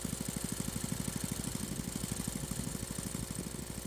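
A motor-driven water pump drawing from a bored well to irrigate rice fields in Aceh Besar, Indonesia runs with a steady, fast mechanical chugging at a constant, moderate level, with no talking.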